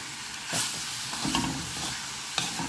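Banana flower being stir-fried in a pan for vazhaipoo sundal, a steady sizzle broken by a few sharp scraping strokes of the spoon, close and moderately loud, with no talk.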